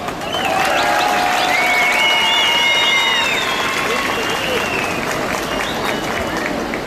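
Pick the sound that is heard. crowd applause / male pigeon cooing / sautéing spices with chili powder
crowd applause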